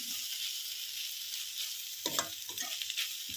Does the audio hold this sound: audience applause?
no